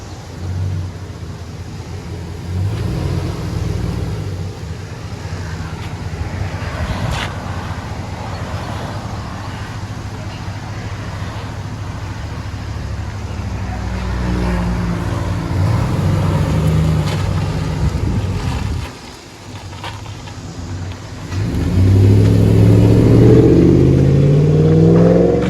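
A 2000-2006 Chevy Silverado with a 5.3L V8 and Flowmaster exhaust rumbles at idle, rises to a deeper rev, dips briefly, then finishes with a loud, sustained rev close to the microphone.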